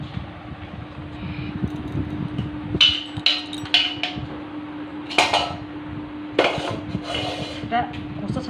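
A metal spoon clinks and scrapes against a dish while scooping cut mango pieces, in a run of sharp irregular knocks over a steady low hum.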